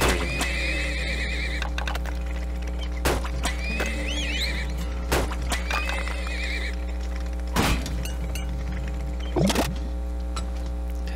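Horses in the oil-drilling video game Turmoil whinny several times, loud shrill neighs repeating over a constant low game hum, with a few clip-clop thuds in between.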